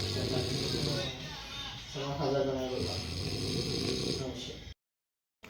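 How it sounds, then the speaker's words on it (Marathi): A man snores steadily nearby, rasping breaths rising and falling over a low background hum, ending in a brief silence. "घोरतोय पण बेकार."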